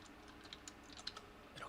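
A few soft, quick keyboard taps, faint and close, scattered over a quiet background.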